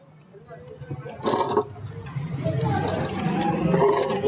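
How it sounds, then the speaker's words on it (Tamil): Floodwater drains from the oil drain of a motorcycle engine that was submerged in a flood, a splashing, running pour that starts partway through and continues under a man's speech. "அந்த தண்ணி போனதே பாருங்கள்"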